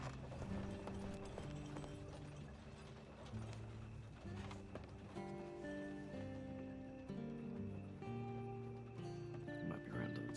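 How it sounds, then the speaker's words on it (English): Steady clip-clop of horse hooves at a walking pace, fairly quiet, with a brief whinny and faint background sounds. "That's his horse."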